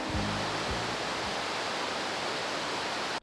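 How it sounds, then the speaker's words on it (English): Dai Iem waterfall in Vietnam, a broad steady rushing roar of falling water filling the scene at the entrance, constant and dense with no voices, cutting off abruptly at the end. "we are visiting Dai Iem waterfall"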